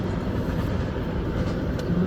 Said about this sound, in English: HX4034 end of train device is going.